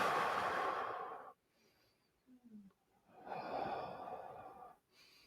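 Slow roller coaster breathing in a meditation session: a long, soft exhale, then a quiet pause with a small sniff, followed by another drawn-out breath, all close and faint.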